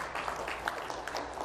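An audience at a business breakfast forum applauds briefly, a dense continuous patter of many hands clapping, moderately loud throughout.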